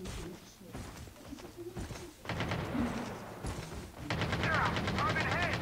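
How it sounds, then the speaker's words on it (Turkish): Gunfire aimed at the player in the mobile shooter Call of Duty Mobile rattles in rapid automatic bursts, growing louder and denser toward the end, while several players talk over it in an excited voice chat. "Şu an bana sıkıyor gene bak."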